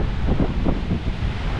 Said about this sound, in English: Sorry it's a little windy today.